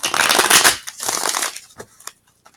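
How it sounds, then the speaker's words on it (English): A quick riffle of tarot cards being shuffled, a dense papery flutter followed by a few softer taps and slides as the deck settles. "I'll do a few final shuffles for you."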